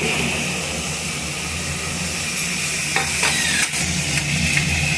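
Potatoes frying in a pan for a mixed vegetable curry give a steady, close sizzle, with a few brief scraping stir sounds over the constant hiss near the end.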